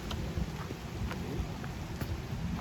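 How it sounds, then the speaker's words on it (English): Rain comes down on a wooded hiking trail near Buttermilk Falls in New Jersey, a steady close patter with scattered heavier drops and low rumbling noise, heard alone without talk. "Why is the rain coming down now?"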